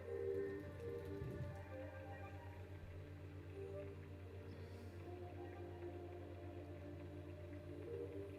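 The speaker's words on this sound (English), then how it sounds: "On cue, a shower of rain tumbles over them." Rain shower in the video game Burly Men at Sea, a soft steady patter and hiss running throughout over a low hum.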